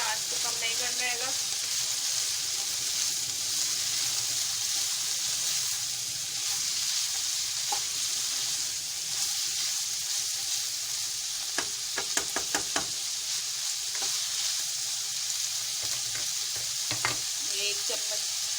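Chicken, garlic and vegetables frying over high heat: a continuous loud sizzle and hiss throughout, with occasional stirring scrapes and light knocks of a utensil against the pan.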